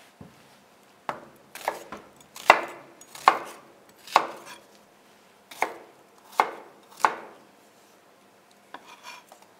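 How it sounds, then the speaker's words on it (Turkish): Knife dicing potatoes and tomatoes into cubes on a board for Turkish tas kebabı, crisp close chopping strokes at a steady irregular pace, with quieter taps and scrapes at the end. "Küp şeklinde doğrayacağım."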